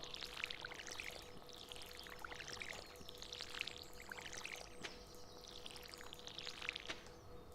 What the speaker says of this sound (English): Now we water these crops.